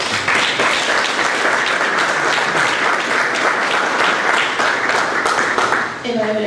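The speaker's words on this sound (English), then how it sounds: "I would ask the audience just to hold your applause for the end of the evening" Loud, dense applause from the audience at a city council meeting fills the room without a break, many hands clapping in a continuous roar that tapers off right at the end as a voice begins.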